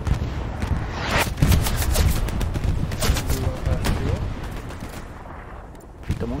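Gunfire in the World War II shooter Hell Let Loose, with a series of sharp shots and bursts over a dense battlefield rumble, some close and some distant, and people talking over it.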